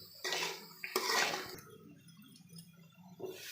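Water pours into a cooking pot during home cooking, a fairly quiet, splashy rush that starts, briefly breaks, and continues with gurgling trickles near the microphone.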